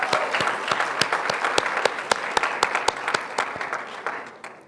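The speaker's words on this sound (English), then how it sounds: "Let's give them one more big round of applause," An audience at a health and nutrition presentation breaks into steady applause, a dense wash of many hands clapping with sharper individual claps poking through, holding loud before tapering slightly at the end.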